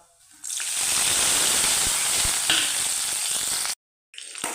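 Garlic, green chili, ginger and curry leaves hit hot oil in a pan for beetroot pickle, bursting into a loud, close, hissing sizzle that holds steady for several seconds, briefly cuts to silence, then resumes.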